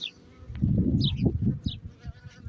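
Dense low buzzing of many honey bees close by inside a hive, swelling and fading in waves, with faint higher chirps above.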